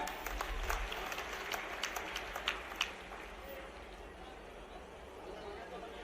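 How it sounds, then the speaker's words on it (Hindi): Applause from a panchayat conference audience at a prize ceremony, fairly faint and mixed with crowd chatter, with a few sharper claps standing out early before the noise thins into murmur. "आप लोग तालियां बजाएं।"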